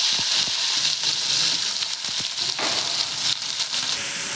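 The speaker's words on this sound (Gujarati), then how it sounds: "હવે આપણે રીંગણ ઉમેરશું" Eggplant hitting hot oil already seasoned with cumin, asafoetida and grated garlic, giving a steady, close, loud sizzle with faint clinks throughout, no talking.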